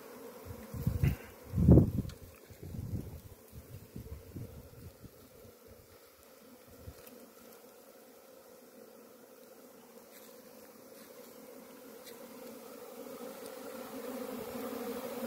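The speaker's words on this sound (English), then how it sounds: "it is being swarmed by this hive" A small hive of bees swarming the entrance of a nuke box baited with lemongrass oil, a steady buzzing drone throughout, with some louder handling bumps and wind near the start.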